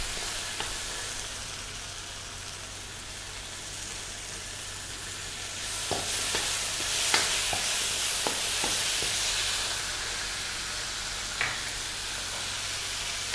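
Slit okra fries in hot oil for a Malaysian fish head curry, a steady close sizzle that swells louder midway, punctuated by sharp spatters and stirring clicks.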